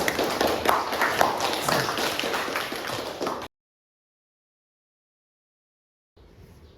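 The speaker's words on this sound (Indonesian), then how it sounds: "Berikan tepuk tangan, pertanyaannya bagus sekali" A classroom of students applauds after a question, a brisk patter of many hands clapping for about three and a half seconds before cutting to silence, then a faint room hiss returns.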